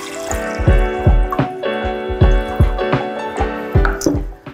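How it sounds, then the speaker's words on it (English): Apple juice poured into a saucepan gives a run of distinct liquid plops and splashes, close and fairly loud, recurring at a roughly regular pace with no talking over them. "we're going to pour the apple juice into a saucepan and let it warm over a low heat"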